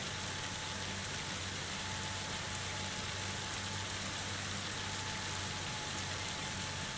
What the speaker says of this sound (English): First time I've ever seen it actually like pour down rain like this